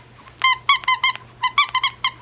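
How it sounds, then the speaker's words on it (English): A squeaky dog toy shaped like a sheepskin bone is squeezed repeatedly, giving a close, loud string of sharp squeaks in two uneven bursts, heard on its own with no talking. "He also squeaks."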